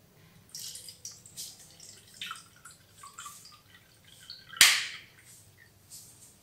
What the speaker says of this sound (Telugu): మనం దీంట్లో వాటర్ వేసి చెక్ చేద్దాము